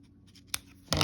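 Scissors snip through thread, a short, sharp close cut followed by a louder, brief snipping rustle, with no talking.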